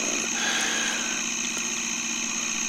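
A gyroplane engine runs at a steady, loud drone with a high whine as the rotor pre-rotation engages, continuous throughout with no talking.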